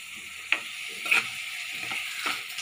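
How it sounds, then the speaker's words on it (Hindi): Cauliflower and spices stirred and fried together in a pan for jeera gobhi fried rice, a soft continuous sizzle broken by several scraping clicks of a spoon against the pan. "अब हमें गोभी और मसाले को अच्छे से मिक्स करना है।"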